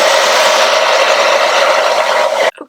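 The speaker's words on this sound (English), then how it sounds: "I'm just going to use a hairdryer just to set that and dry it." A hairdryer blows steadily over an alcohol ink landscape painting, a loud, constant whooshing whir up close that cuts off abruptly near the end.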